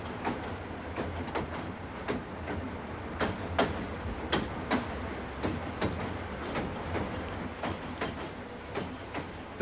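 A train rumbles over the Burdekin River rail bridge at Ayr in Queensland, wheels beating a steady clickety-clack of repeated clanks against a continuous broad roar, fairly loud and without voices.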